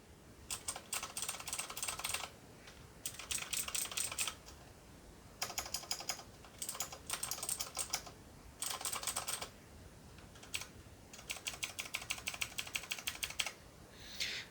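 Bursts of rapid clicky typing on a 3D printed keyboard, close and crisp, coming in steady runs of several keystrokes separated by short pauses, with no talking.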